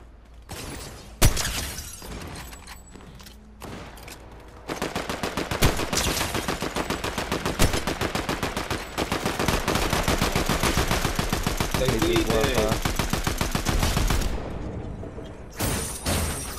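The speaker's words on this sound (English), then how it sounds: "They're shooting like right over here too." Rapid automatic gunfire in a Fortnite match, dense sustained bursts rattling for several seconds after a few scattered single shots, loud and close with brief pauses near the end.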